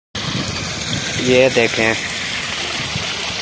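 Water gushes steadily through a broken, washed-out road, a continuous rushing noise close by, while someone speaks briefly over it partway through.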